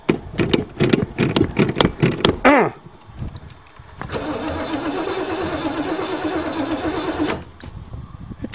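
An old Chevy engine cranks with a rapid rhythmic starter whir, then catches and fires, settling into a loud steady running roar before cutting out near the end.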